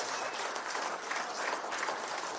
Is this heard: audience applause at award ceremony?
yes